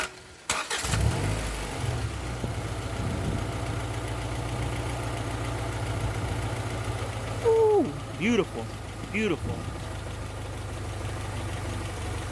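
A car engine with a newly installed OEM valve cover and a known exhaust leak cranks and catches, then settles into a steady idle with a couple of short revs, close by, as someone speaks briefly over it.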